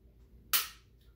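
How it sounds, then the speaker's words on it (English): A handgun's slide is racked while the pistol is being cleared: one sharp, close metallic snap that rings out briefly against a quiet background. "Just for sake of doing it, I'm gonna clear my gun."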